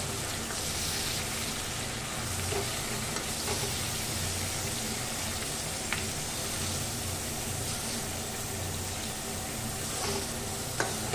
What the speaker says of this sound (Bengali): এবার আমি আস্তে করে এটাকে কড়াইয়ের মধ্যে দিয়ে দিচ্ছি আর জাস্ট এপিট ওপিট করে এটাকে একটু ভেজে নেব।